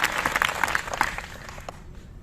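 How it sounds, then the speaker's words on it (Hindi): Clapping from a seated audience at a motivational workshop for NCC cadets in a college hall, a dense patter of hands that is loudest at the start and thins out toward the end. "ताली तो बजानी पड़ेगी"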